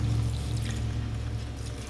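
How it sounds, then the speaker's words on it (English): Water pours in a steady, close stream into a crock pot of homemade soap, a short continuous fill with no voices. "I've put about a half a cup of water on here"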